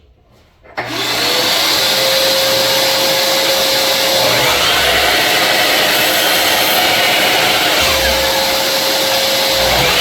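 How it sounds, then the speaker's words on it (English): Workshop dust collector system switches on after a brief quiet moment, then runs as a loud, steady broadband roar with a faint whine, continuing without a break to the end. "Gotta turn on the dust collector system."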